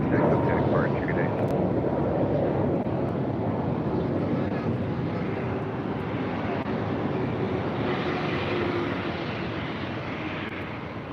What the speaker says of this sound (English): Virgin A350 now crossing over 25 right.